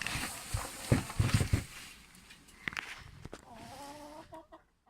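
Chickens cluck softly nearby amid rustling and scratching, with a short tonal call near the end before it fades to quiet.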